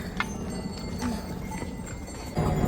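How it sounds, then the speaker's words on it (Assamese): Horse hooves clop along a rain-slick mountain trek path from Gaurikund to Kedarnath in an uneven walking rhythm, with faint background voices and outdoor noise. "ঘোঁৰা মানুহ চব লাগেজ একেলগত আনি আছে"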